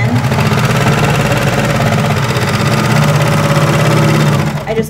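A sewing machine runs steadily as it stitches baby leggings, a continuous loud mechanical whirr with a fast stitching rhythm that holds for nearly five seconds before stopping.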